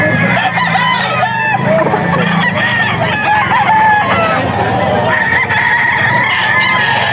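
Spartan Black gamefowl roosters crow loudly and repeatedly at a busy auction market in Bocaue, overlapping calls and clucks filling the air nearby with faint crowd noise beneath.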